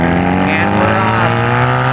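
A Honda Rebel 250 motorcycle pulls away with a close, rising engine drone whose harmonic tone climbs steadily as it accelerates over two seconds.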